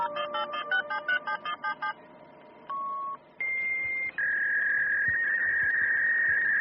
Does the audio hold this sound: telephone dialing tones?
yes